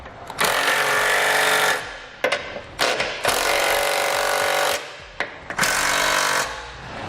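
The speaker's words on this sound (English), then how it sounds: "we're going to use a 3/4 inch socket to snug it all down" A ratchet with a 3/4 inch socket tightens the bolts of a Curt trailer hitch receiver on a 2018 Infiniti QX60. Three loud, sustained mechanical bursts are separated by short clicks and pauses, with no talking.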